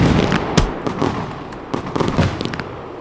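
Fireworks burst repeatedly in the video game Firework Mania, sharp loud cracks and booms in an irregular volley over a crackling, fizzing wash, with a dense cluster of bangs toward the end.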